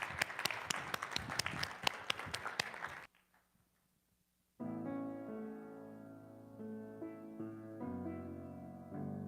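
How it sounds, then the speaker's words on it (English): Audience applause for a woman invited up to sing, a loud burst of many hands clapping that stops abruptly after about three seconds, followed by a pause and then music. "let's give her a round of applause"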